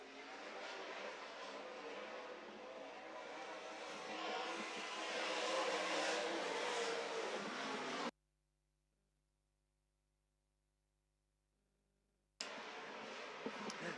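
Late model race cars on a speedway starting a heat, with a loud, dense engine roar building steadily, then cutting to near silence before the roar resumes.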